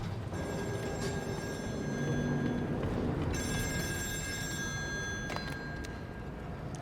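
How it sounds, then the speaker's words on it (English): An old telephone rings with repeated bell trills inside the horror game Still Wakes The Deep, set on an offshore oil rig, heard at moderate volume over steady low ambient rumble. "I hear a phone."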